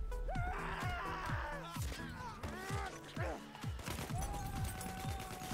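Fully automatic assault weapon fire in the first-person shooter Battlefield 1, sharp rapid bursts of shots with brief gaps, joined by other combat noises and a few gasps.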